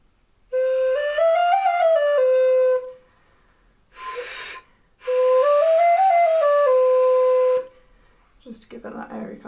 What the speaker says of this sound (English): One way of changing the sound of the recorder is by leaking air around the mouthpiece when you play